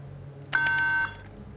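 A short, bright electronic quiz game buzzer tone sounds once for about half a second, clean and loud against a quiet room.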